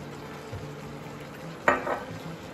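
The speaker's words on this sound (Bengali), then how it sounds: "পুরো সব মশলা দিয়ে এটাকে ভালো করে মাখিয়ে নেব। আমি এটার উপর দিয়ে আরেকটু তেল দিয়ে দিব।" Spoon stirring beef coated with spices and oil in an Instant Pot, a low sizzle underneath and a brief scraping stir near the end.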